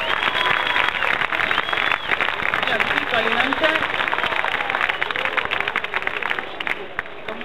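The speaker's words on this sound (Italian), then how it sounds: "vorrei gentilmente che facessimo un applauso a Marcello Mendicino" Audience in a hall applauds a guest, Marcello Mendicino, at a 1998 school theatre company's staging of Eduardo De Filippo's play Non Ti Pago: steady, dense clapping and crowd noise throughout, with a voice speaking briefly over it.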